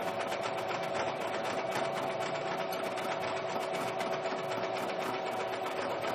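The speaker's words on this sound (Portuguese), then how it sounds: "Na minha máquina normal, eu boto no ponto zigue-zague, boto o tamanho da minha costura lá no 0." A domestic sewing machine runs steadily on a zigzag stitch at its shortest stitch length, a continuous close mechanical whir and rapid needle clatter with no talking.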